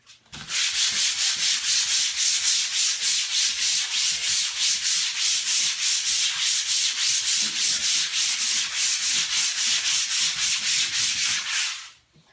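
A drywall patch is sanded by hand in fast, even back-and-forth strokes, a loud rhythmic rasping that runs steadily for about eleven seconds, close and with no voices.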